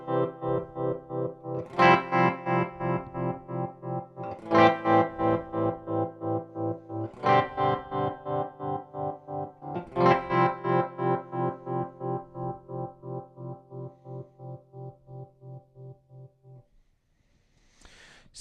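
Chasebliss Audio Gravitas analog tremolo pedal on its square waveform, chopping sustained chords into hard on-off pulses at a steady rhythm, several strummed chords ringing and fading with no talk.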